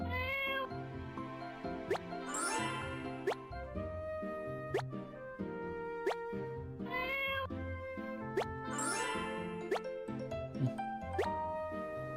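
A repeating cat meow sound effect from the video game Portia loops several times with plopping, drip-like tones, moderately loud over soft game music.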